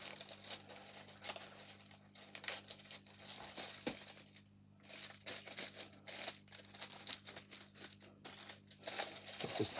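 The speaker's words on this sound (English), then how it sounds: "now I've got to tape that together" Sellotape is pulled and torn off the roll and pressed together while a homemade TV aerial is assembled, making a quiet run of crackly rips and sticky crinkles in irregular bursts with brief pauses between.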